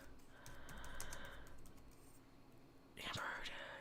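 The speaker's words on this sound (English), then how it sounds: "I'm typing in the wrong chat." Soft, quick clicks of keys being typed on a computer keyboard, close by and fairly quiet, with a faint whispery murmur and a brief louder burst near the end.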